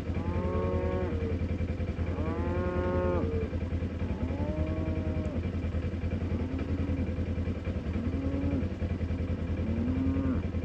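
Cow on a farm mooing repeatedly in drawn-out calls at a moderate distance, over a constant low engine rumble from a nearby vehicle.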